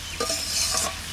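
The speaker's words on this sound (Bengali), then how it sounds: "না অত বড় মাথাটা দিয়ে কচুর শাক ভাজছে" Taro leaves fry in a pan with a large hilsa fish head, a close, steady sizzle crossed by a few quick scraping stirs, with no talking.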